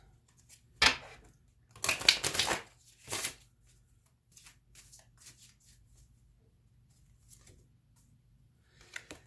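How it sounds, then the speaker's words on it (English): Tarot cards shuffled by hand in short riffling bursts, a sharp flurry near the start and a longer run in the middle, then quieter scattered handling sounds, close and fairly soft with no talk. "Let me pull another card on that."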